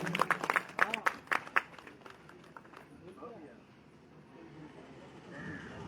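Audience applause welcoming a guest at a Hindu sammelan gathering, a burst of sharp scattered clapping in the first two seconds that quickly thins out, followed by murmuring crowd and a voice speaking over the hall's background.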